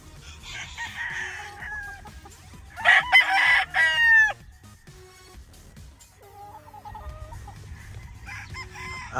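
A Golden Boy gamefowl rooster crows loudly and close, with other fowl clucking and crowing more faintly around it at a farm.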